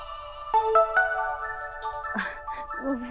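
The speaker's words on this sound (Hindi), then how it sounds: "फोन आ रहा है" A phone ringtone plays a bright electronic melody of repeating tones, close and steady, with a voice briefly speaking over the end.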